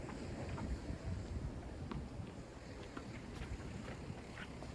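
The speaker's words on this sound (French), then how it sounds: "Alors il y a énormément de vent." Steady, heavy wind buffeting the microphone, a continuous low roar with gusty rumbling and faint scattered clicks, no voices.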